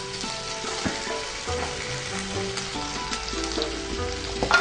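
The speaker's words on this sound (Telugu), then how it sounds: "ఇక్కడ వచ్చేసి పనీర్ ఫ్రై అవుతుంది తవా మీద" Paneer pieces frying in hot oil on a tawa give a steady close sizzle and crackle, with onions frying alongside, moderately loud and free of speech.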